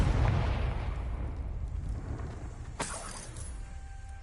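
A Confringo blasting curse explosion from Hogwarts Legacy, a sharp crack and burst of debris near the middle of the clip that cuts through a steady low rumble of background noise.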